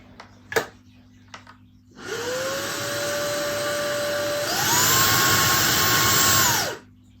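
A Numatic Hetty vacuum cleaner switches on with a rising whine, runs steadily, then steps up to a higher-pitched speed before shutting off, preceded by a few faint clicks and taps.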